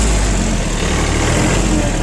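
A Hinomoto N209 four-wheel-drive Japanese mini tractor with 485 engine hours runs its engine steadily, a loud, close, continuous rumbling drone with no pauses and no voices.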